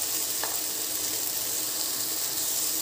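Brinjal pieces and green chillies frying in hot oil with salt, giving a steady, dense, close sizzle that holds even throughout.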